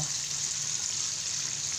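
Fried chicken deep-frying in plenty of oil in a wok over a high flame, giving a steady bright sizzle and bubbling hiss, close and constant, with no talking.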